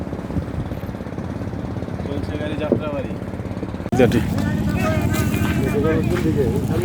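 A river boat crossing between India and Bangladesh, with a steady engine drone and water noise that grow louder partway through, continuing under people talking.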